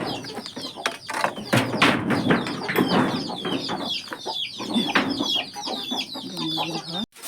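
Chickens cluck and squawk busily at close range as they are let out of their coop on a rainy, muddy morning, a dense flurry of overlapping calls with occasional bumps.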